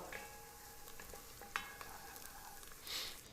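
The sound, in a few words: chopped garlic cloves sizzling in olive oil in pot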